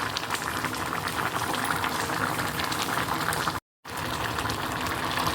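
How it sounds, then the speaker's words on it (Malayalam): Tapioca curry with small onions bubbles hard in a pot, a steady, close, rushing simmer. The sound cuts out completely for a brief moment partway through, then the boiling resumes. "ഇപ്പോൾ ഇത് നന്നായിട്ട് തിളച്ച് വന്നിട്ടുണ്ട്."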